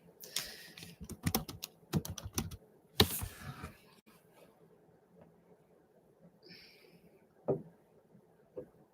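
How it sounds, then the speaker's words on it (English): Someone types a name on a computer keyboard, quick clusters of close key clacks in the first few seconds, then sparse quiet taps and a couple of isolated clicks in a quiet room. "Let me type your name."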